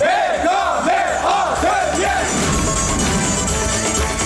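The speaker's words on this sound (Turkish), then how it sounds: "Alkışlar Yılmaz Erdoğan'a geliyor." A studio audience at a Turkish TV comedy show cheers and claps loudly for a guest, with whoops and shouts, a steady roar of crowd noise filling the whole stretch.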